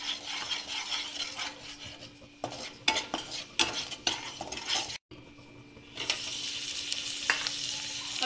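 Shahi paneer masala frying in a pan while a spoon stirs and scrapes, producing a close, continuous sizzle broken by clanking strokes against metal, briefly cutting out before the sizzle resumes, with no talk.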